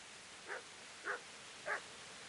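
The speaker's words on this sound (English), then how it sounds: "The dog's not going to shut up, is he?" Three short, evenly spaced dog barks from a dog in the Kingdom Come Deliverance video game, moderately close and fairly quiet over a steady low background hiss.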